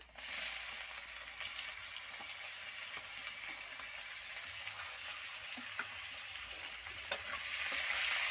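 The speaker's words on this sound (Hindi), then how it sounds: "एबे पियाज पकईदेवा।" Onions fry in a pan for a mutton curry, a loud continuous close sizzle that holds steady throughout with a few faint stirring scrapes and no talk.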